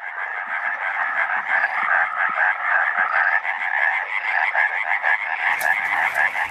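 A European tree frog calls with its vocal sac in an Iberian spring forest, a loud, dense, rapid rattling croak sustained for several seconds, with a brief noisy rustle near the end.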